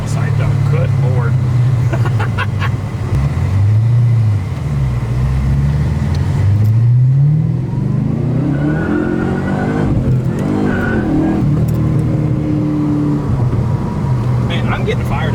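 A car with a 6-speed manual gearbox being driven, its engine droning and then revving up and down through the gears, loud and close inside the cabin, with voices talking over it.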